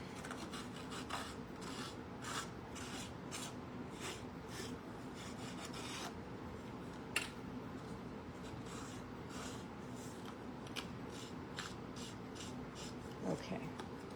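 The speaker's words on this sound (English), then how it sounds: "Sanding block again." A sanding block rasps back and forth over the edges of cut paper during card-making, a faint, close series of short rhythmic rubbing strokes repeating steadily throughout.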